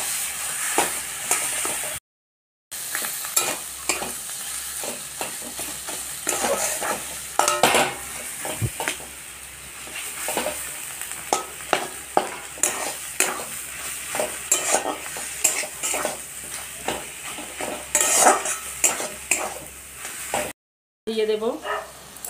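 Spoon stirring cooked spices and hilsa fish heads in a sizzling pan for a Bengali taro-leaf bharta, with steady scraping and clinking over the frying hiss.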